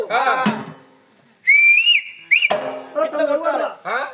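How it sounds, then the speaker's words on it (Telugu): A person whistles a short rising-and-falling tune, loud and close, between bursts of animated talk during a Telugu oggu katha folk storytelling performance; voices speak before and after the whistle. "ఈల కొడతా"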